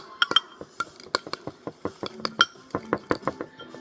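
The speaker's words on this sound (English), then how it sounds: "Hold on, let me stir this." A DIY slime mixture with salt being stirred in a bowl, giving quick, close, irregular clinks and taps of a utensil against the bowl in a steady run of sharp hits.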